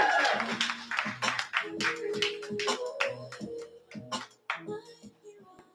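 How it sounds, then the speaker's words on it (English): A small open-mic comedy audience claps as a comedian walks to the stage: a loose patter of separate hand claps, fairly close, thinning out toward the end, with some voices mixed in. "Clap it till Nick gets to the stage"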